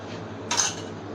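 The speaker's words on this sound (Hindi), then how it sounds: "अभी इसमें थोड़ा चम्मच चलाते हैं" A metal spoon scrapes and clinks once against a pot of beef payee, a single short bright scrape over a low, steady kitchen hum.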